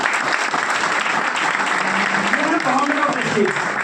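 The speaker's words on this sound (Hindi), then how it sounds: "एक बार जोरदार तालियां हो जाएगी।" Loud, sustained applause from an audience fills the whole stretch, dense clapping at a steady level, with a voice briefly heard over it near the end.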